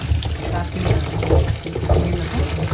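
Raw tamarind pods are washed by hand in water, producing continuous close sloshing and splashing with running-water trickles, while a voice talks over the washing.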